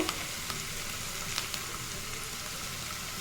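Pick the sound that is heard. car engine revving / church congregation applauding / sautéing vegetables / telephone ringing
sautéing vegetables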